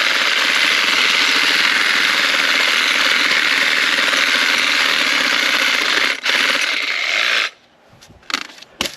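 A DeWalt reciprocating saw cuts steadily and loudly through an embedded object for about seven seconds, a dense buzzing drone that stops abruptly, followed by a few brief clatters and knocks.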